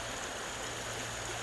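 A natural stream flows steadily under a sunny sky, giving a continuous broad rushing and burbling wash with no pauses or voices.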